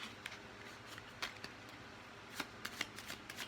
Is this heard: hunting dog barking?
no